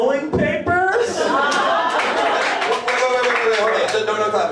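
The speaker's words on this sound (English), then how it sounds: "No clapping." A panel show audience claps and laughs in short bursts, mixed in with lively talk from the stage.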